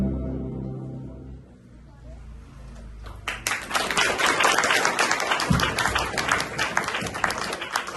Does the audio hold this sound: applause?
yes